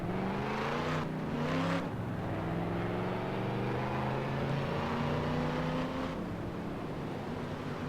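Stock cars in the NR2003 racing game roar down the back stretch, a steady engine drone with rising and falling whines as several cars pass in close succession, loud and continuous without talk.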